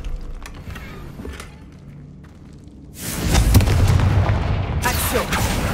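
Confringo explosive spell in Hogwarts Legacy: after quieter rumbling game ambience, a loud blast hits and a heavy, sustained roar of booming and crackling follows, near and dense.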